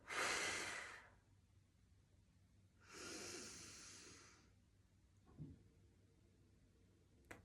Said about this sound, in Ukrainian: і потужно видихнули.